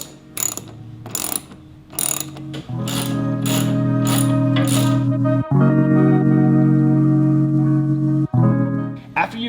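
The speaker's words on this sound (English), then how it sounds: "grab your socket wrench with your 1/2-inch socket and tighten up" Ratcheting socket wrench fitted with a 1/2-inch socket tightening screws on a wall mounting bracket: loud, close clicking of the pawl in short bursts, then longer continuous ratcheting runs with brief pauses.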